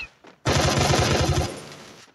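Video game gunfire comes in a single loud, rapid automatic burst of shots that lasts about a second and a half, close and alone with no talk.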